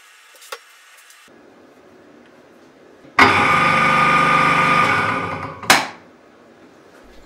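A reassembled Soviet 2M112 drill press, its motor remounted in a new position, clicks on and hums steadily for a couple of seconds, then winds down after a sharp clunk, with quiet handling noises before and after.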